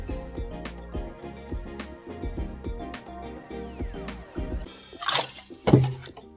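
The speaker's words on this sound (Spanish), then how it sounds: "Vamos a echarle el agua aquí." Water is poured into a potted orchid, a short burst of close splashing and trickling that comes near the end after steady background music.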